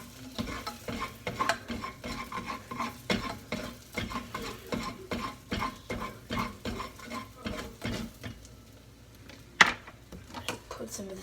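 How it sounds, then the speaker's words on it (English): A spoon stirs a pot on a stove just after the heat is turned off, rhythmic scraping strokes at close range with a faint sizzle beneath and one sharp metallic clink near the end. "turn off the heat, stir it up"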